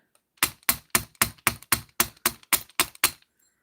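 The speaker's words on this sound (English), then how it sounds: "we're going to get our steel block out and our nylon hammer, and we're just going to" Nylon hammer tapping wrapped wire on a steel block to work-harden it, about eleven evenly spaced, sharp, close taps in a steady rhythm, heard alone.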